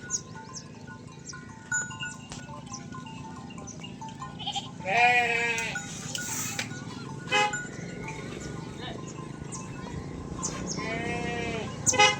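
Goats and sheep in a grazing village herd, with a few loud, wavering bleats from nearby over a low background of shuffling and murmuring, and someone talking quietly at times.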